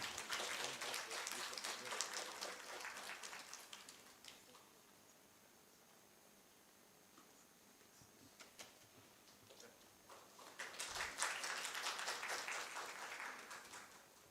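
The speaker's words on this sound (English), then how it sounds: "Can we have a big round of applause" Audience applause at a science academy annual session held at IIT Guwahati, bursts of crowd clapping at the start and again near the end, separated by a quiet stretch with only faint scattered claps.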